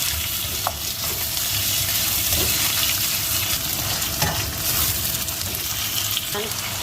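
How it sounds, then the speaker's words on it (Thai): Shrimp and squid stir-fry in a hot pan for a Thai chili and stink bean dish, giving a dense, steady sizzle with a few soft utensil clicks and scrapes. "พอเริ่มหอมแล้วก็ใส่กุ้งกับปลาหมึก แล้วก็ผัดให้สุกนะคะ"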